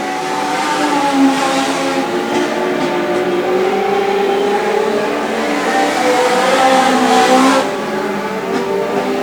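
Legend race cars lapping a track on the final lap of a heat race, a steady loud blend of engines droning past with shifting pitch sweeps as cars pass, no talking over it.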